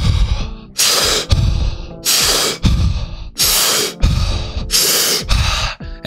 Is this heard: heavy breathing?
yes